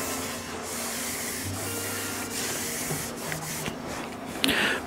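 Wax is sprayed onto the sections of a fishing pole: a steady, hissing aerosol spray runs almost unbroken, close and moderately loud, with faint handling rustles and a short clatter near the end.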